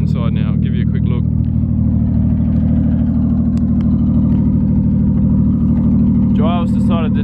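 A Ford AU Falcon engine idles steadily up close, a loud even low rumble with a faint rise in revs, while people talk over it.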